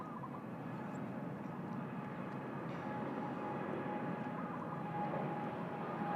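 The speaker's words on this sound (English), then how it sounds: "We got a long takeoff roll only to Singapore, but the 787-10s, they always intend on using up plenty of runway" A Boeing 787-10 airliner on a long takeoff roll at Bangkok, bound for Singapore, sends out a steady, distant, broadband engine roar that holds level and unbroken throughout, with no voices.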